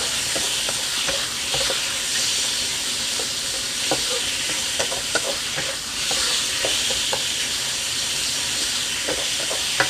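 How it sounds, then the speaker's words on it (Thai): Pork stir-fried with garlic in a hot pan, for a Thai pork and napa cabbage dish, hisses loudly and continuously, with scattered scrapes and taps from the spatula throughout. "หมูลงไป ผัดหมูให้สุกค่ะ"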